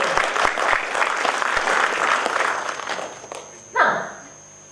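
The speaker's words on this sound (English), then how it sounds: "have a round of applause for yourselves" Audience at a Toastmasters district event clapping together, a dense wash of applause filling the room, then tapering off before a brief fresh swell near the end.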